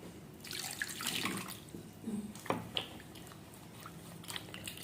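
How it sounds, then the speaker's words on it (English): Running tap water splashes over a lemon being washed in a sink, a steady close rush with a few brief knocks and clatters. "Then you have to wash it thoroughly."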